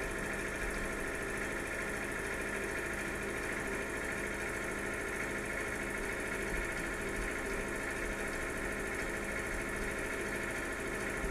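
A tractor engine in the video game Farming Simulator 2013 hums continuously at a dense, constant drone, with no pause or change in pitch, and no voices over it.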